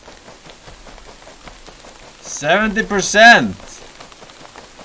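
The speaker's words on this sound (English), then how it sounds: "Oh, it's raining." Steady patter of rain on a surface in a video game, with a short burst of excited speech partway through.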